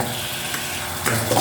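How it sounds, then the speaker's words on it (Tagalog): Food with calamansi being stirred in a pan, a soft continuous scraping and sizzling with a brief louder clatter near the end, close up and alone. "Tapos, halo-haloin ko ito ng bagya"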